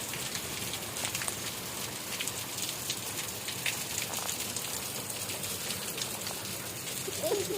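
Steady rain falling on surfaces during a rainy-weather day, a continuous dense patter of drops throughout with no speech.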